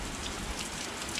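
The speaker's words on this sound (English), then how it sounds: "it is a torrential downpour today" A torrential downpour of rain falls steadily outdoors, a dense, continuous hiss of drops pattering on surfaces, loud and close with no pauses.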